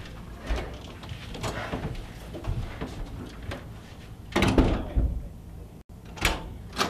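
A door opens in the ENDLESS video game with a handful of soft clunks and a louder latch-and-swing sound midway, heard alone at close range.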